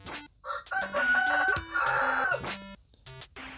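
A rooster crows loudly and close by, giving several drawn-out, wavering calls broken by short pauses, with no talking over it.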